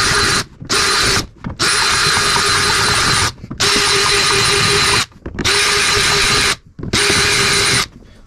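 A power drill whirs loudly in six bursts, each lasting about half a second to a second and a half, separated by brief pauses.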